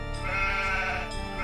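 Sheep bleating in Age of Empires 2: The Conquerors, a single short, harmonic, wavering bleat heard clearly and alone.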